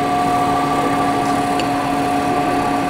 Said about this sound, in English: This is a heavy grit lap, which leaves the surface very milky and rough, but it removes an excessive amount of material.